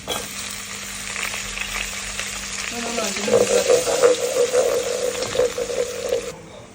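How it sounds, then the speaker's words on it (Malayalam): Green chillies sizzling in hot oil with garlic in a pan while cooking palak paneer butter masala, a steady frying hiss that grows louder and crackles in the second half, then cuts off near the end. "പിന്നെ പച്ചമുളക് ഇട്ട് കൊടുക്കാം"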